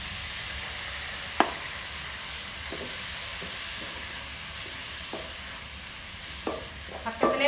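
Spinach sizzles as it is sautéed in a pan. A spoon stirs and scrapes it in scattered strokes, and a few sharper knocks sound against the pan. No one speaks.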